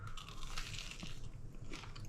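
A crunchy sage and onion stuffing ball, cooked in an air fryer, is bitten into, giving a couple of close, crisp crunching bites over a low background hum.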